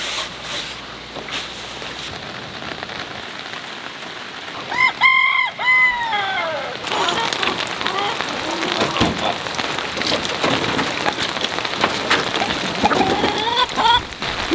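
Chickens cluck and a rooster crows briefly amid steady rain pattering on a surface, the birds fairly close, with no one speaking.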